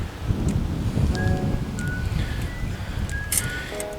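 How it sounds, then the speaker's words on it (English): Strong gusty wind buffets the microphone outdoors while a rooftop tent is packed away, a steady rough roar with faint rustling and a few thin tonal whistles. "if you guys can see everything blowing around, it's still really windy"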